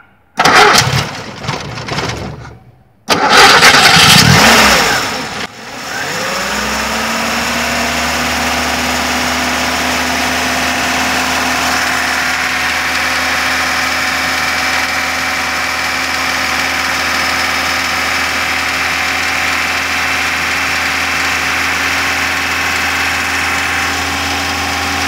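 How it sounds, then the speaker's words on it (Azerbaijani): A car engine with a fault being diagnosed cranks in a couple of loud bursts, catches, and settles into a steady, even idle that drones on close by for the rest of the stretch. "Maşını xodlayım."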